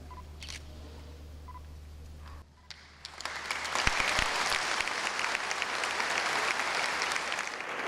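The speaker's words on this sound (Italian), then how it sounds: "Un applauso lungo e scrosciante per festeggiare Monsignor Michele Tomasi" After a quiet lull, long thunderous applause swells up inside Treviso Cathedral for the newly ordained bishop, growing dense and sustained and filling the space for several seconds.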